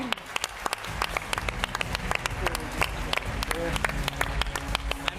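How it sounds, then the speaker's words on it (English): Applause from an audience after a startup presentation: sharp, separate claps scattered through a moderate round of clapping, with a low murmur of voices underneath. "one more round of applause for Kay"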